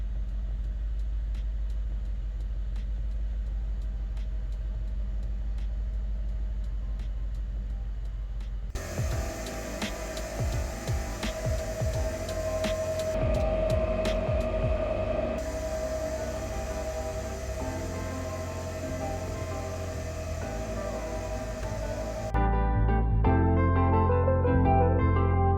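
Tire inflation system pumping up the front wheels of a G-Wagon 6x6, a steady engine rumble joined by a sustained hissing, whining air-compressor tone that runs for over ten seconds before a change in pitch.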